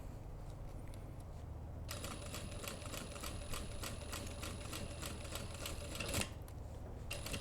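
A sewing machine stitches a zipper onto a sling bag with a fast, steady mechanical rattle. It starts after a quiet moment, runs continuously and close, and ends with a brief back-stitch.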